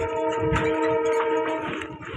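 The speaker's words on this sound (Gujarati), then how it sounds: "જો ટ્રેન જાય છે" A train passes with a steady droning rumble and a sustained tonal horn-like hum, moderately loud and continuous for the whole stretch.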